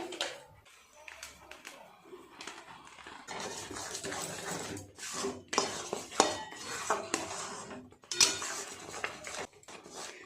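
A spoon scrapes and clatters against a pan in continuous, uneven bursts as a palm-pulp sweet is stirred with milk powder, with a voice talking under the clinking.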